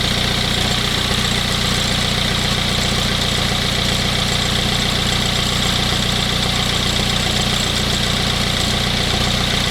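A BMW 320d E46 diesel engine with a VP44 injection pump idles after pump timing work, giving a loud, steady close-up drone with a faint diesel knock that runs unchanged throughout with no voices.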